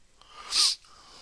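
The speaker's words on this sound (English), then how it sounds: "you didn't expect me to blast into your ears with that sneeze, did you?" One sharp, close human sneeze bursts out loudly and briefly, then is followed by quiet room tone, with no talking.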